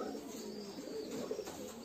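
Pigeons at a pigeon farm, soft cooing from several birds, fairly faint with a low rumbling background.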